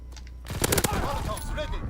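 Rapid bursts of submachine gun fire in Call of Duty WW2, a short volley of cracks followed by a busy game-combat mix with faint chirps and effects layered under it.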